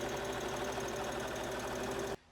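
A sewing machine stitches a short seam on a sleeveless wrap top with pleated shoulders, a steady close, fast mechanical whir that runs for about two seconds and then stops abruptly.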